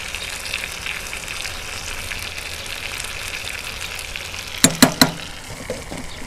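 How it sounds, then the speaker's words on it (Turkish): Steady bubbling and hissing of a pot of green beans boiling on a wood stove, with a quick cluster of sharp clinks near the end. "İnan ki ocak olsa böyle fasulyemiz kaynıyor orada."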